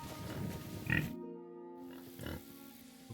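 Pig oinking in the video game Kingdom Come: Deliverance 2, a stray sow: two short grunting oinks, moderately close, over steady in-game ambient tones and a low hum.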